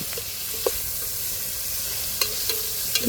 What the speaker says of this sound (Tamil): மீன் பொரிக்காதானே